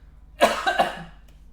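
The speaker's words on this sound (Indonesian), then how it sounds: "Batuk." A single close, short cough made of three quick bursts, heard alone in a quiet room.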